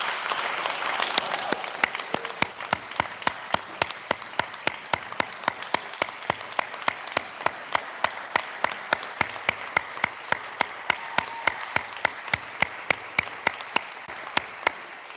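Applause from parents and families at a high school senior awards ceremony, dense at first and then thinning into a long, steady run of single regular claps that carries on alone for about fifteen seconds.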